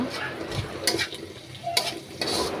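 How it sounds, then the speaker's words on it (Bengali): Vegetables being stirred with ground spices in a pan while cooking, irregular scraping strokes and soft sizzling with a few sharper utensil clacks, close by and moderately loud. "সব কিছু গুঁড়া করা মশলাগুলো দিয়ে ভালো করে নাড়াচাড়া দিয়ে দিব"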